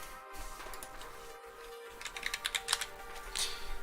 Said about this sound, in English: The keyboard is buzzing. You guys hear it? You guys hear the keyboard?